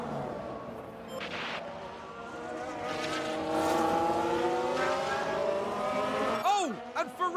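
A Ferrari Formula One car at the Bahrain Grand Prix screams past with rising and falling engine pitch, growing louder then dropping sharply as it passes, with trackside commentary talk faintly underneath.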